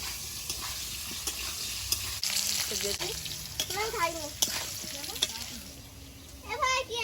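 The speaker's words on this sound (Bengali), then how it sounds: "আলু ভাজা একটু লবণ দিয়ে দেবো না চিমটি হলুদ" Potato pieces frying in oil, seasoned with salt and turmeric, give a soft continuous sizzle with occasional stirring scrapes while a person talks over the cooking.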